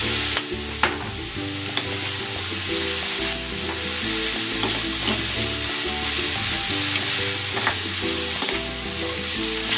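Broccoli stir-fries in a pan with salt and pepper, a constant close sizzle under repeated stirring scrapes and utensil knocks, no voices.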